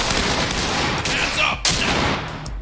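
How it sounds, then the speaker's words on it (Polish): Rapid gunfire bursts in the tactical police shooter Ready or Not, loud and dense with sharp cracks and a short gap, continuing to the end. "O chuj, strzały!"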